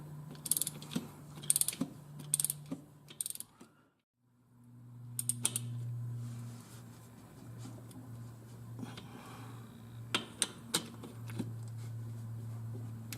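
A ratchet wrench tightens a plug on a tractor's front axle, giving quick bursts of clicking between pauses, with a low mechanical drone rising and holding underneath, close and moderately loud.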